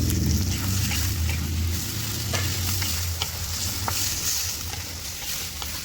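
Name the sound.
frying onion and tomato in a pan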